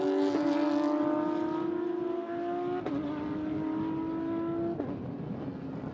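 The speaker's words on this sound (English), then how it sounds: "So the cars are hitting the track." Porsche Cup race cars head out onto the track at a qualifying session in Brazil, with several engines droning and revving in steady, overlapping tones as they pass at medium distance.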